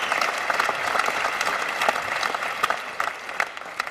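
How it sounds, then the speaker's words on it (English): Audience at a stand-up comedy show breaks into applause, a lively patter of many hands that swells and then thins out over a few seconds with scattered louder claps near the end. "I always feel weird when people clap for that"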